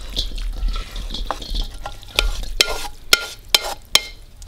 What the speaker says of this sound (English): Go ahead and drop in the noodles. And the stir fry.